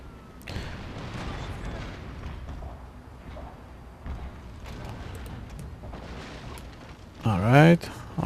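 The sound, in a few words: ship cannon fire in Total War Shogun 2 video game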